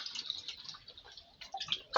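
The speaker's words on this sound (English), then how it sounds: "now I'm adding my water" Water is poured by hand into a Defy front loader washing machine that has no tap connection, giving faint, soft splashing and dripping sounds in short irregular bursts.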